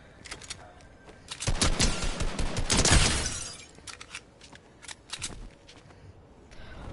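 Shotgun blasts in a building-and-shooting video game, a cluster of sharp, loud bursts around the middle of the clip followed by scattered fainter cracks and clatter.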